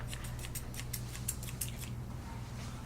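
Thinning shears snip through a Westie's back feathering in a quick run of light, crisp clicks over a steady low hum, then stop near the end.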